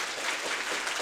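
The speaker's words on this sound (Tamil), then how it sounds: "கைதட்டி ஆரவாரம் செய்யும் ரசிகர்களே" A live crowd at a Tamil singing show claps and cheers in a steady, dense wash of applause throughout the short moment, with no one talking over it.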